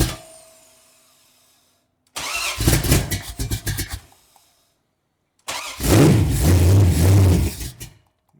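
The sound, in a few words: freshly rebuilt Chevrolet LT1 engine running, popping back through carburetor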